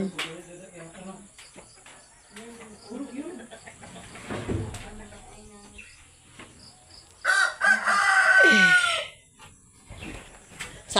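Roosters crow at a chicken farm, one loud close cock-a-doodle-doo rising over scattered clucking and calls from other fowl, with people talking intermittently in the background.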